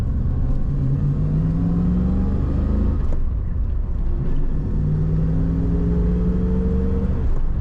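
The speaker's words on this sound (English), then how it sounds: "Good running Camaro, good acceleration." A 1985 Chevrolet Camaro Z28 with a 5-speed manual accelerates hard, its engine note climbing loud and close through one gear, dropping briefly at a shift, then rising again through the next, with no voices.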